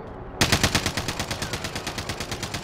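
Gunfire in Call of Duty: Modern Warfare, a loud sustained burst of rapid, evenly spaced shots that begins abruptly and continues to the end, with no voices.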